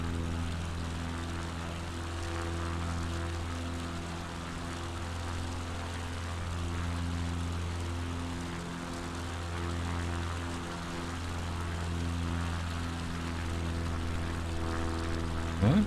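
A propeller-driven bush plane climbs steadily in Microsoft Flight Simulator over mountains and a lake in Patagonia, with a constant droning engine hum that holds alone and unbroken throughout.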